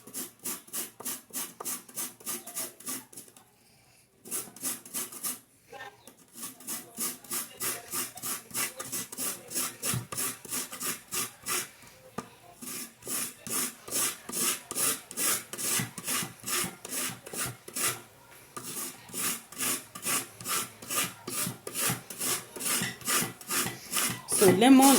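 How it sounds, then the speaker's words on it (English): Lemon peel scraped on a hand grater in a home kitchen: a steady run of rapid rasping strokes, close and fairly loud, with a brief pause near the start and another midway, and no talking. "So I'm going to grate out the lemon peel"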